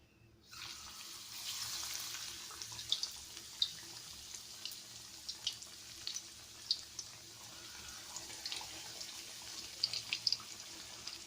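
Fish coated in besan batter fries in hot oil, giving a steady, soft sizzle with scattered small pops throughout, fairly quiet and with no talking.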